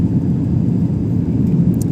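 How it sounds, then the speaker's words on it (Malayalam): A steady, loud low engine rumble from inside an airplane descending toward landing on a flight to Malta, a continuous drone with no talk. "ഞങ്ങളുടെ മാൾട്ട ഫ്ലൈറ്റ് വലിയ കുഴപ്പമില്ലാണ്ട് അങ്ങനെ താഴേക്ക് പോയിക്കൊണ്ടിരിക്കുന്നു"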